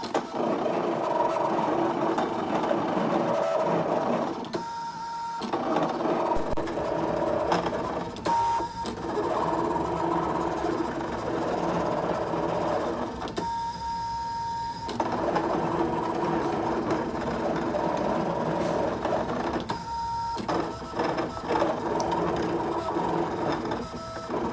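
A Brother ScanNCut CM350 cutting machine slices designer series paper, giving a steady mechanical whir with repeated motor buzzes and brief pauses as the blade carriage moves back and forth, close and continuous throughout.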